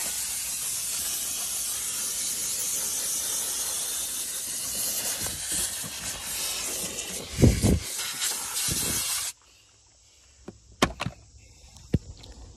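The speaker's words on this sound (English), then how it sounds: "Hit it with the steam first." A loud, steady steam hiss runs for several seconds, then cuts off abruptly, leaving a few scattered clicks and knocks.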